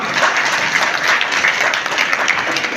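Steady, dense applause from a crowd at a Vishwakarma Jayanti celebration, continuous loud clapping filling the whole stretch without a break.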